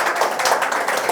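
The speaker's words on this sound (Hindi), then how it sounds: "तो एक बार जोरदार तालियां बजाइए" Audience applause at a spoken poetry recital, a short burst of dense, steady clapping from many hands, close and fairly loud with no talking over it.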